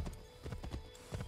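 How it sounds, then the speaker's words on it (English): Hooves clip-clop in an uneven trotting rhythm as a horse is ridden toward Lexington in Assassin's Creed 3, fairly close and clear with no talk over it. "Oh, I can run faster than this horse."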